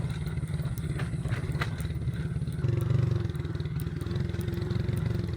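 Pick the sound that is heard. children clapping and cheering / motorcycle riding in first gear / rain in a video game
motorcycle riding in first gear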